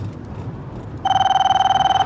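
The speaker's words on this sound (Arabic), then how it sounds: "إياك أن تجيب على هذا الجوال الكافر." A mobile phone rings loudly and close, its electronic tone starting midway and pulsing rapidly and evenly until the end, with faint room background before it.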